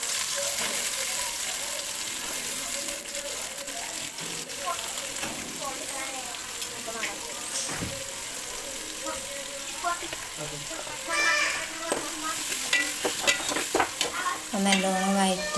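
Onions sautéing in oil and ghee for biryani, a dense continuous sizzle like light rain with repeated stirring scrapes and spatula knocks throughout, close and fairly loud; a voice is faintly present at times.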